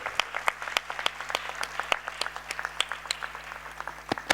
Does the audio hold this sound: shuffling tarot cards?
no